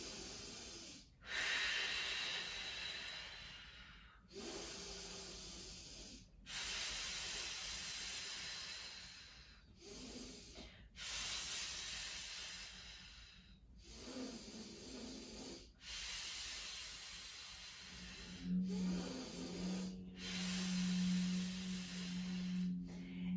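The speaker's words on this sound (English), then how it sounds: "We're here for 5 breaths, in and out." Slow, deep breaths in and out during a core workout, each long airy inhale and exhale close and clear, separated by brief pauses, with a low hum entering near the end.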